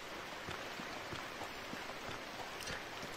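Rain falling in the desert in the video game Starsand, a steady soft hiss of raindrops with scattered small pattering impacts, even and continuous with no talk.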